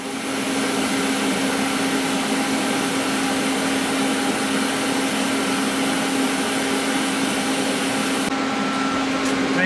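An R-Tech Power TIG 260 welder runs an arc on thin stainless steel tube. It gives a constant loud electrical hiss and hum that stays even from start to finish, close up and without breaks.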